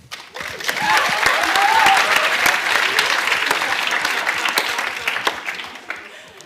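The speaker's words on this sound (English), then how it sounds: "Please applaud now Eloise Fransen." Steady, sustained applause from an audience at a bachelor's diploma ceremony rises quickly, holds strong, then tapers toward the end.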